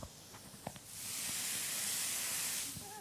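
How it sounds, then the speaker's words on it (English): Moroccan chicken searing in a pan without oil gives a steady broadband sizzling hiss that swells after a second of quieter clatter, then holds close and even before easing slightly at the end. "I don't know if you can hear it sizzling away."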